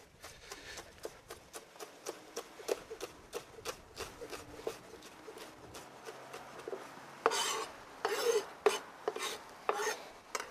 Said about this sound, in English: when I cut up the bacon, what I'm going to do is I'm going to leave kind of like big girthy chunks in it